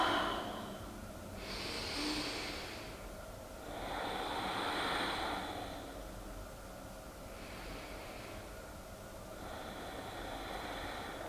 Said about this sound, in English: take nice big full breaths